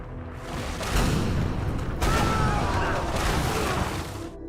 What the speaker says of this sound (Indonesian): tiba-tiba saja terdengar tembakan dari laut